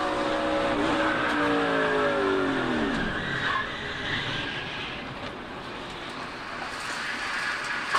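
NASCAR race car at Talladega sliding for a long stretch with descending engine tones and tire scrub, then a rough impact as it gets hit from behind, loud and continuous with no talk.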